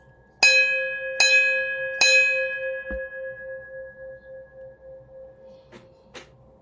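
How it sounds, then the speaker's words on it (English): A bell is struck three times at an even pace, each strike bright and ringing with a long sustained tone that slowly fades, followed by a couple of faint ticks in a quiet room. "Ring the bell 3 times"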